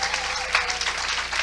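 Audience clapping at a talk by a doctor, a full, steady burst of applause from a crowd, close and loud, with voices faintly mixed in.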